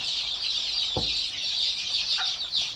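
Desi chicks are fed rice, giving a steady chorus of high peeping with a brief low cluck from a nearby hen, all close and continuous.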